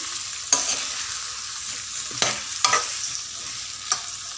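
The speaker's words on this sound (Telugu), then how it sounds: "మంచిగా కలుపుకోవాలి దొండకాయ ముక్కల్ని" Ivy gourd pieces are stirred in a pan for a masala curry, with four sharp scraping strokes of the spoon over a soft, steady background sizzle.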